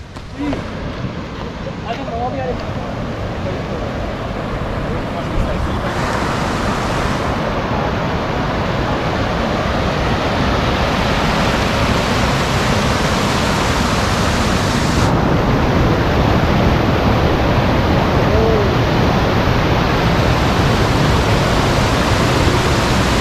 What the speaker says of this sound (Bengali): ও, অপরূপ ঝর্ণা লুকিয়ে রয়েছে এই ছত্তিশগড়ের এখানে।